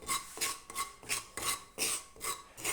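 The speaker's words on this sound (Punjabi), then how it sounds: "ਗੈਸ ਘੱਟ ਕਰਕੇ ਇਹਨੂੰ ਥੋੜਾ ਜਿਹਾ ਭੁੰਨਣਾ ਕਲਰ ਨਹੀਂ ਇਹਦਾ ਚੇਂਜ ਕਰਨਾ ਹੈਗਾ ਥੋੜਾ ਥੋੜਾ ਭੁੰਨਣਾ ਇਹਨੂੰ" Semolina is stirred and dry-roasted in a pan over low gas for a kheer, heard as about eight rhythmic, close scraping strokes with brief gaps between them.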